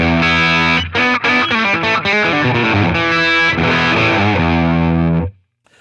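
A dirty, distorted electric guitar tone through a Line 6 Catalyst 100 amp on its boutique setting plays a loud run of notes and chords, then rings out and fades to silence.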